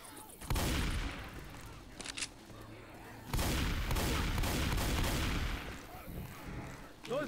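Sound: gunfire in the video game Left 4 Dead 2

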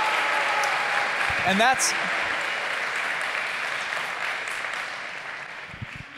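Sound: audience applause at a talk

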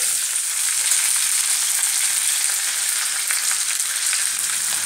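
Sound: capsicum and onion frying together in a pan

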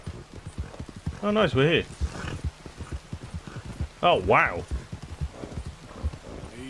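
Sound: horse hooves clip-clop in the video game Red Dead Redemption 2

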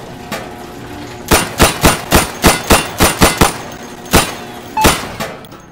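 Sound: gunfire at a moving target in the video game Insurgency

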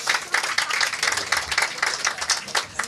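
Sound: audience applause for a singer-songwriter

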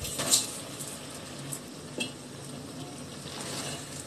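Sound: frying rice and lentils with beef in a pan

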